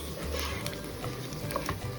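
Onions sauté with tomato and pepper paste in a pot, a close, continuous sizzle broken by light taps and scrapes of stirring.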